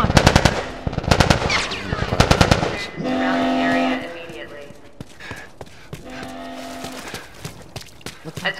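Video game gunfire in The Last of Us erupts in rapid automatic bursts, loud and close, alternating with tonal game sounds and shouted voices between volleys.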